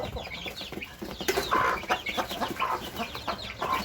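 Six-week-old chicks cluck and peep continuously, several birds close by chattering in quick, overlapping calls.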